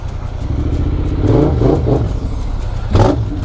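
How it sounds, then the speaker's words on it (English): A motorcycle engine revs while riding through London, a close, throaty rising-and-falling note with a couple of quick throttle blips over steady road rumble. "I like the noise my bike is making."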